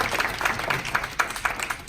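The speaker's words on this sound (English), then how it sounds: "please give them a round of applause" Brief, moderate audience applause for earlier speakers at a talk, scattered hand claps in a loosely pulsing rhythm with room echo.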